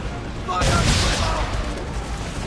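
Cannon fire from a sailing ship in the video game Assassin's Creed III, a booming volley that breaks out just after a shouted command and then rumbles on beneath the noise of battle.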